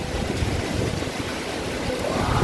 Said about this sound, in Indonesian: angin kencang pun tiba. Ngeri sekali anginnya.